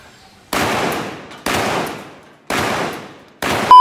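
Gunshots fired at a Gille GTS V1 helmet in a stress test, four loud sharp cracks spaced about a second apart, each with a decaying ring, close and without talking.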